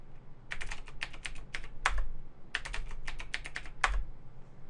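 Keys tapped on a computer keyboard while entering a password during a Linux software install, in two quick bursts of clicky strokes with a heavier key press ending each burst, close and clear with no talking.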